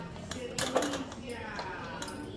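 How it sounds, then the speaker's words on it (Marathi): A metal pressure cooker lid being fitted onto the pot while cooking mutton, with a few sharp metallic clinks and scrapes close by, then a lingering ring as the handling settles; faint speech sits in the background. "आता मस्तपैकी आपण याला कुकरचं ढक्कन लावायचं"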